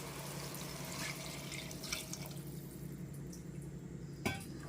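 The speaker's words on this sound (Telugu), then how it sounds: "ఇప్పుడు నీళ్ళు వేసేద్దాము" Water poured into a pressure cooker of lima beans, a steady low pouring rush with a brief clink near the end, no talk.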